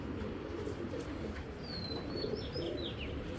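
Pigeons of a strong, tight-bodied khaki breed cooing softly at a pigeon seller's, with a few high chirps over a steady low background murmur; no one speaks.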